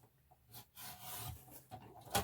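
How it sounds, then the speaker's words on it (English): Paper card cover of a handmade booklet being trimmed down, a few soft scraping, rubbing cuts and rustles in quick bursts, quiet and close, with no talking. "I'm just going to trim that down just a little bit."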